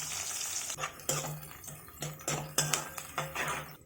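Sliced onions, cumin seeds and chopped green chillies fry in hot oil. A continuous sizzle is broken by repeated scraping stirs from a spoon against the pan, each a sharp, close burst in an irregular rhythm.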